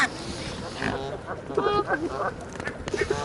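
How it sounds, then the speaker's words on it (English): Geese and ducks honking and quacking at a bird park, a few sharp nasal calls rising over a busy murmur of other birds and ambient noise, fairly close. "Beautiful birds"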